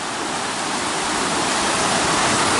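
A Smoky Mountains river rushes under a bridge, a loud, dense, unbroken wash of flowing water that stays close and steady with no voices.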